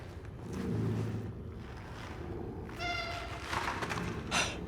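A cat meows in the video game Cronos: The New Dawn, a few short moderate calls set against a steady ambient game backdrop with a brighter call near the end.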